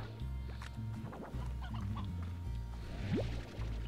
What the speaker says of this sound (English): We definitely want the chickens.